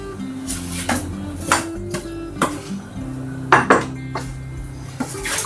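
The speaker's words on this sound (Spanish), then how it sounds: "le vamos a añadir las patatas" Potatoes tumbling into a pot of ribs for an oven-style rib dish, with several clanks and clinks of food and utensil against the metal pot, moderately close and spaced irregularly, no voices.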